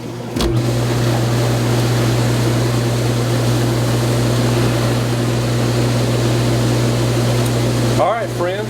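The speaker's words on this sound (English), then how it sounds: "I have water running through that jet." Water runs through a hot tub jet after a RICO kit repair of a leaking soft pipe at the jet body fitting. A loud, constant rush sits over a steady pump hum for several seconds.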